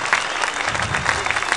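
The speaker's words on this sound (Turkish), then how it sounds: "Alkışlayın bakalım ekip arkadaşları." Studio audience clapping for the crew on a Turkish television show, a steady, lively patter of many hands at moderate loudness throughout, with a murmur of voices mixed in.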